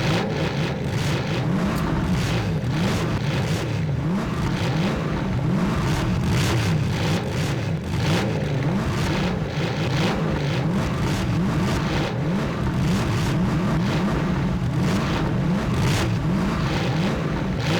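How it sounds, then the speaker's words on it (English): An ice cream truck engine in the Time Warp of Dr. Brain game drones continuously, a loud, steady motor rumble with a repeating pulse throughout. "So this is an ice cream truck and it turns left."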